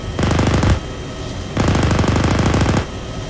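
Aircraft guns fire on a gun run in two long rapid bursts, a loud, close mechanical rattle separated by a short pause.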